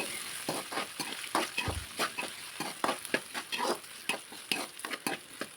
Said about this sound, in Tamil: அந்த வெண்டைக்காய் எடுத்து இதில் போட்டுக்கோங்க.